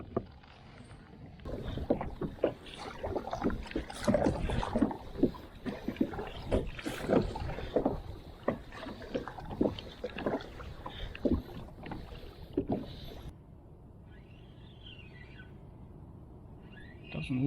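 A kayak moves across Lake Macquarie with repeated paddle strokes and splashes close by in a loose rhythm, light wind in the background, then the strokes stop and faint ambient sound remains.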